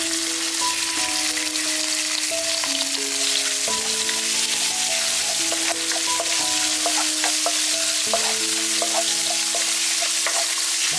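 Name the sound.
stir-frying pork fat in a wok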